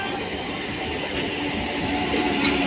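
An MMTS local train pulls into a station in Hyderabad, giving a continuous close rumble of rolling coaches and wheels on track, steady throughout with no voices.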